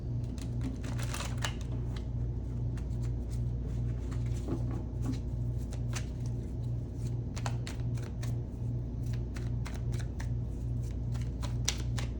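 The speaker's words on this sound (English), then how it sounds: "And we will start by shuffling the deck." A tarot deck being shuffled over and over, rapid riffling flutters and soft snaps repeating steadily at close range.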